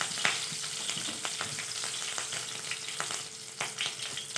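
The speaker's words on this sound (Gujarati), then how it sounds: "મરચાં થોડાક તતડે" Green chillies crackle and spit in hot oil with mustard seeds and cumin, a steady close sizzle broken by sharp popping bursts throughout.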